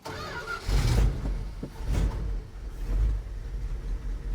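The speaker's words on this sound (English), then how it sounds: "see how it idles now?" A 1973 Dodge D100 pickup idles with the choke partly pulled before warming up, a low uneven rumble with slight surges that sounds close to stalling.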